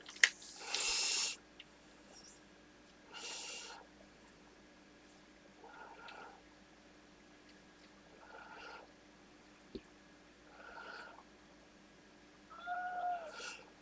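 A kitten meows several times in short separate calls, fairly close, with quiet pauses between them and a faint background hum.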